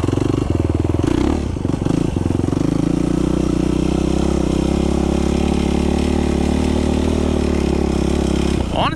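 A Yamaha YFZ ATV engine running in a field, a loud steady idle with clattering at the start and a brief rev near the end, with someone talking over it.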